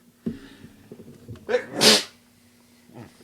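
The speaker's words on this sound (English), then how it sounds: "I have to sneeze." A single sharp sneeze bursts out after a few small breathy sounds, loud and close, followed by quiet.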